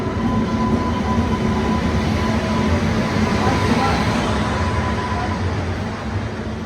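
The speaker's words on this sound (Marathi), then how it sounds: "आधी बघा ट्रेन. बसता मी आता गाडीत." Train noise at a station on a hot sunny day, a loud steady rumble with rolling clatter heard up close, continuous throughout with no speech.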